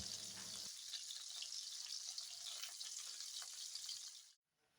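Chicken hearts sizzle steadily in a hot frying pan, a continuous close crackle and hiss that stops abruptly at the end.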